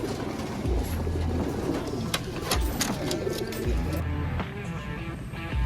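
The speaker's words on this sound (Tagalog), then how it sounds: "Yan mga kalapatids." Pigeons coo in repeated low, throaty phrases, with sharp clicks and light rustling mixed in nearby.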